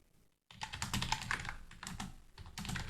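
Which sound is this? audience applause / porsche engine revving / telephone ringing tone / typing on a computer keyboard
typing on a computer keyboard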